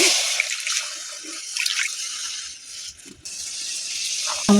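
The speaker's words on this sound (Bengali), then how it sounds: "দিয়ে দেবো সামান্য একটুখানি জল" A little water poured into a cooking pan on the stove, a short splashing pour with a few drips, loudest early and then settling.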